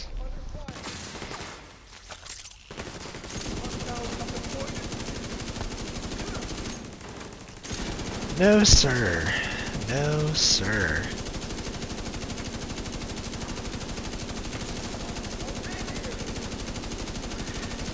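Sustained automatic gunfire rattles in The Division 2, dense bursts running for most of the stretch with a short lull, and a voice briefly speaks over it.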